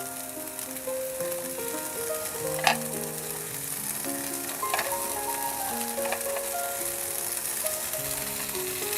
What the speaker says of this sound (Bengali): এরপর একটু ভালো করে নেড়ে নিব